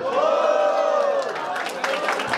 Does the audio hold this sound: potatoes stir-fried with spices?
no